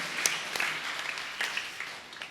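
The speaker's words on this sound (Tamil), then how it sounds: "அவருக்கு ஒரு கைத்தட்டு தரணும்" Brief, moderately loud applause from a church congregation during a novena mass, scattered claps bunching into a short burst with no talk over it.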